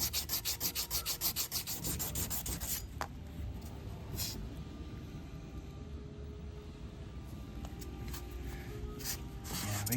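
Hand sanding on stainless steel car trim, starting with quick rhythmic back-and-forth strokes, then settling into a steady close rubbing scrape with a few sharper scuffs, with no talking.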